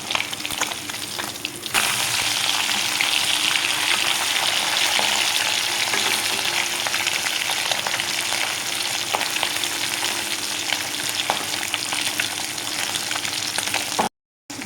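Tengra fish frying in hot oil give a steady, dense sizzle that holds evenly for many seconds at moderate loudness, starting quieter and cutting off briefly near the end.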